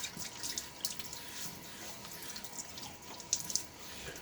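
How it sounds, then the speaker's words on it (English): Water splashes and drips quietly from a sink as it is applied to a face before shaving, with soft irregular patters and small splashes over a few seconds; no talking. "A little bit of water on my face."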